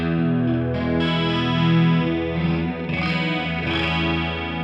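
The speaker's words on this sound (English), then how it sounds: "Detune to me always sounds like a much thicker version of a chorus." Electric guitar chords through the detune effect of a Sonicake Matribox shimmer with a thick, doubled, slightly detuned modulation, ringing steadily with a dense wash of sound and no talking.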